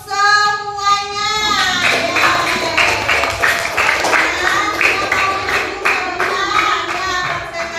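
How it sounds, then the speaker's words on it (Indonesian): A teacher claps for a third-grade class in a classroom, a fast run of close, rhythmic hand claps that starts after a brief spoken or sung opening. "Ibu kasih tepuk tangan untuk semuanya"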